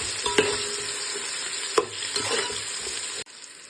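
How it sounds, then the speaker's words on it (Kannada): Onions frying in oil in a pan for homemade biryani, a steady close sizzle with a few sharp scrapes and clatters of stirring, then a sudden drop as it cuts off near the end. "ಈರುಳ್ಳಿ ಚೆನ್ನಾಗಿ ಗೋಲ್ಡನ್ ಫ್ರೈ ಬರೋ ತನಕ ಫ್ರೈ ಮಾಡಿ"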